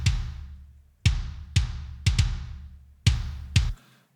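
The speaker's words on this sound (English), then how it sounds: "So without that EQ on, the kicks sound like this." Dry, unequalized kick drum hits from a studio drum mix sound at close range, several thumps in an uneven groove with a couple of quick doubles, each decaying before the next.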